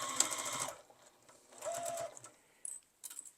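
A sewing machine back stitches on an iPad case, with two short bursts of close mechanical whirring separated by a pause, followed by brief clicks and handling noises.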